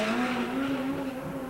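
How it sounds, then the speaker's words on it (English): Import drag race car launching at the 1999 Battle of the Imports, a loud sustained engine whine holding a steady pitch, close and continuous. "when this car launches, the chassis really, really works good"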